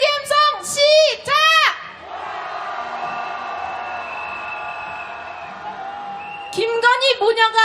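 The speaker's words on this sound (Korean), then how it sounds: "윤석열 탄핵의 함성 시작." Protest crowd at a candlelight march calling for a president's impeachment, with loud rhythmic chanted shouts at the start and end around a long sustained roar of many voices.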